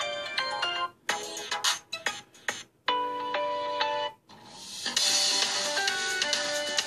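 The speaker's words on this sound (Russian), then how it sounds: "А где же эта ужасная мелодия Over Horizon, которую они каждый год ставят в свои смартфоны?" The Samsung Over the Horizon ringtone plays on a Galaxy S7 Edge, a bright melodic chime phrase with short pauses between notes, then a fuller sustained passage, heard alone without talk.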